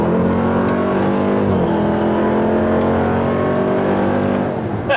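A Dodge Durango Hellcat, a supercharged performance SUV, roars loud and close with a sustained, steady engine drone that holds strong throughout, shifting pitch slightly once midway.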